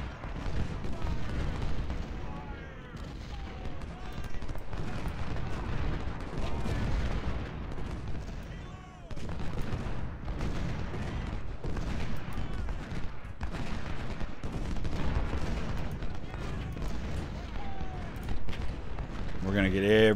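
Continuous booming cannon artillery fire across a Civil War battlefield at Fredericksburg in the strategy game Ultimate General: Civil War, dense overlapping rumbling blasts with crackling musketry, steady and loud throughout.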